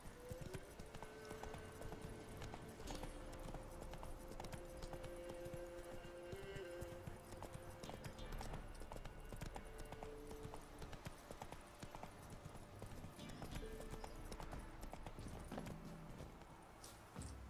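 Steady hoofbeats of a horse ridden in The Witcher 3, a continuous clip-clop throughout, mixed with game ambience and a faint tonal hum, fairly quiet overall.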